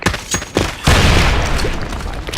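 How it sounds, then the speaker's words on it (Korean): Grenade thrown and exploding in a video game: scattered sharp cracks of gunfire, then a loud burst that swells into a sustained rumbling blast fading slowly. "수류탄 투척!"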